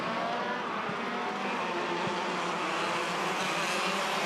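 Junior 125cc Rotax Max karts racing in a 2017 prefinal, a steady, continuous high-pitched engine drone filling the whole stretch at moderate loudness, with no talk over it.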